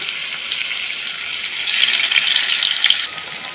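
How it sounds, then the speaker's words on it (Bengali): Paneer cubes sizzle in hot oil, a steady close hiss with bright crackling that swells slightly partway through, no voices. "তেলটা গরম হয়ে গেছে, আমরা একে একে পনিরের কিউবগুলোকে এর মধ্যে এইভাবে দিয়ে"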